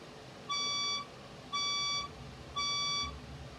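A building fire alarm sounds three evenly spaced, shrill electronic beeps, each about half a second long, over a low background hum, with no talk.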